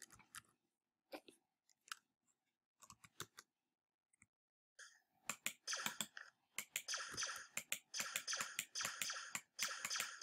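Computer keyboard typing, scattered faint clicks at first, then quicker clustered keystrokes in irregular bursts, close and quiet.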